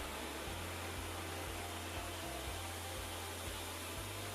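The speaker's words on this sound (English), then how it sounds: "we're sitting here with the vacuum now actually turned into blower mode, and we're going to force a little bit of air through this cooling system" A vacuum switched to blower mode pushing air through a truck's cooling system to clear out leftover radiator fluid, giving a loud, steady, broadband rushing roar with a faint rhythmic low thump throughout, with no talking.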